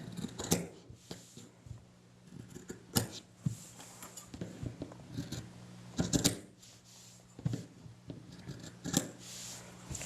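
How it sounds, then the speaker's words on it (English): Scissors snip the fabric corners of a double-sided apron, giving sharp close-up clips and creaks at irregular intervals, several separate cuts with quiet handling noise between them. "do cut out the bulk at all the corners, all the way around"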